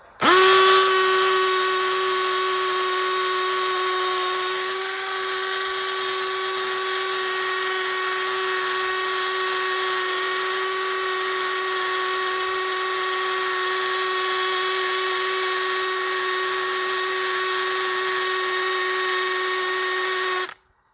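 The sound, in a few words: drilling into metal with a drill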